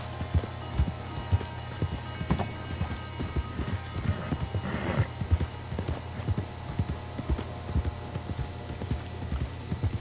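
Horse hooves clip-clopping in the Red Dead Redemption 2 video game, a steady run of moderately close hoofbeats with uneven rhythm over a low background hum, no voices.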